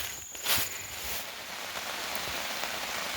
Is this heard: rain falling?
yes